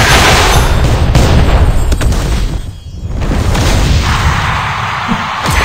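Tank cannon fire in the Tank Stars mobile game sounds as loud, dense booms and blasts layered over continuous game effects, with a brief dip before the action resumes.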